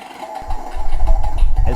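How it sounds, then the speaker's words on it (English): An RC sound unit fitted in a P-51 model plays simulated engine noise. A low rumbling engine tone rises in loudness and keeps going throughout. "the simulated engine noise responds"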